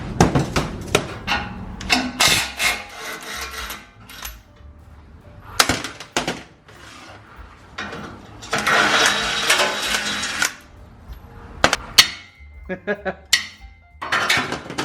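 Repeated loud metallic bangs and clanks of a crescent wrench striking welded metal brackets on a bulldozer, in irregular bursts, with someone talking and grunting between the hits.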